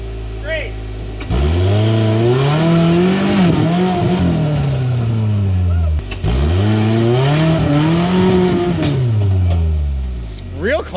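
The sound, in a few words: rock crawler buggy engine revving on rock trail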